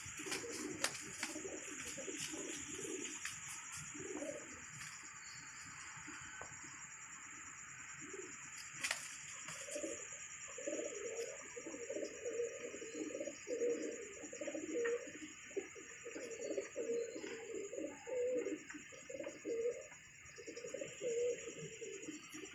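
Pigeons coo repeatedly in low, rolling phrases, close by, over a steady high-pitched background hum with occasional bird chirps; among them is a female pigeon.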